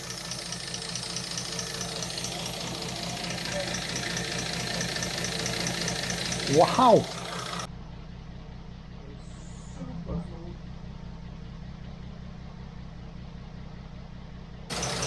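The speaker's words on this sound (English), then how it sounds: "it is gurgling, but listen to it. I got a slight sound like a tappet" A cold car engine idles with a steady low rumble and a faint rhythmic ticking like a loose tappet, recorded close; a brief exclamation breaks in midway.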